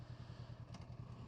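A Honda CB500X motorcycle engine warming up after days parked, idling with a steady, rapid low thumping pulse, faint and close, with a slight clatter and no talk.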